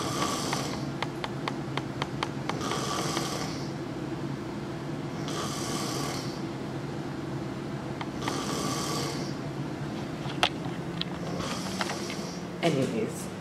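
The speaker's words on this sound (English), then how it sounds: "Do you hear them? They're both snoring." Two men snoring loudly nearby, with repeated rasping breaths in an uneven rhythm and a few clicks and creaks between them.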